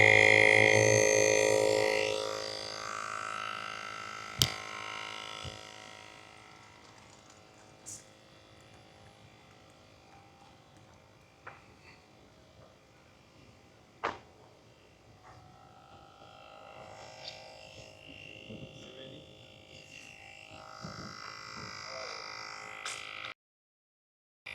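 A cordless portable tire inflator air compressor pumps a tire, starting with a loud buzzing motor hum that fades into a quieter steady drone with occasional clicks, while a person talks over it.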